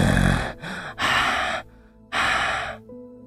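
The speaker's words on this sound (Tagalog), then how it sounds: "Hingal ng mga ito." Two exhausted people pant heavily after running and falling onto a road, with loud, ragged breaths in short bursts separated by brief pauses.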